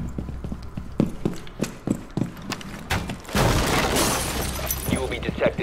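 Glass breaking in Rainbow Six Siege gameplay: a loud burst of shattering crash and scattered debris erupts mid-clip, preceded by a run of sharp rhythmic clicks and taps, with game noise continuing throughout.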